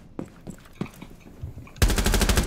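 Gunfire in the video game Rainbow Six Siege: a few scattered single shots, then a loud, sustained automatic burst at close range filling the last stretch, with no talk over it.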